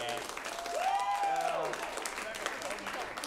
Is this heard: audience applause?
yes